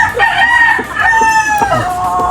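A rooster crows loudly and close, its long drawn-out call repeating with strained, wavering pitch and no other sounds.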